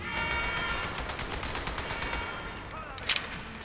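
Dual SMGs firing in Halo 2: Anniversary, a rapid continuous burst of automatic shots with a few sharper cracks near the end, heard alongside game effects.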